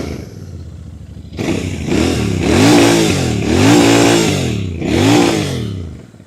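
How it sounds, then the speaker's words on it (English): Royal Enfield Bear 650 motorcycle engine revved repeatedly at standstill, several rising and falling blips of a loud, close, low rumbling exhaust note, each swelling and dropping back in turn. "Nice low rumble from the engine. Refined low rumble."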